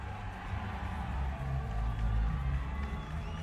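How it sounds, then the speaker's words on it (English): A boxing crowd at a Liverpool fight night cheers and whoops for debuting boxer Matthew Rennie from Douglas, Isle of Man, a loud, sustained roar of many voices and applause filling the hall throughout. "there's the biggest cheer of the night so far for Matthew Rennie"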